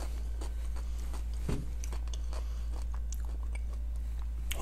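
Close chewing of a quinoa and vegetable salad with feta and lime, soft crunchy bites repeating irregularly over a constant low hum.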